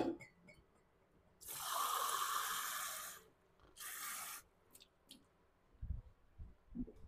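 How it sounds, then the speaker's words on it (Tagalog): Tap water gushes from a faucet into a container for watering a peace lily, in two close bursts of steady running separated by a pause, with faint handling knocks afterward. "kuha ko ng tubig"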